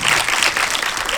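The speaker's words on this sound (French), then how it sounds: "On peut l'applaudir." A theatre audience claps at a Paris film premiere, a brief burst of steady, close applause.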